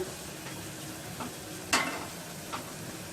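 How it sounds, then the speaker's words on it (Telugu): Onion pieces frying with salt in a pan for Andhra gongura mutton curry give a soft, steady sizzle, broken by a few brief scraping stirs, one sharper than the rest. "కొద్దిగా ఉప్పు వేసి వేయించుకున్నట్లయితే ఉల్లిపాయ ముక్కలు తొందరగా వేగుతాయి"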